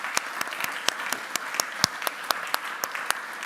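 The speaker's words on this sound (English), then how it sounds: "so round of applause" A small audience claps after a panel at an economic conference, sparse and fairly distinct individual claps with sharp peaks standing out from a thin background of softer clapping.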